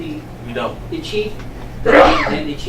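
A single sharp sneeze bursts out near the end, loud and close, during a county freeholder meeting where people talk quietly just before it.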